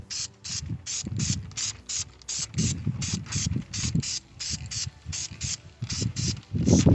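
Spray can being shaken for repairing a cracked plastic bumper, a rapid regular rattle of the mixing ball in about twenty even strokes, close and fairly loud with no talk.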